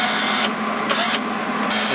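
Hobart Handler 135 wire-feed welder with its feed motor running, a steady close mechanical whir with broad hiss that cuts in and out in short bursts as the trigger is pulled and released.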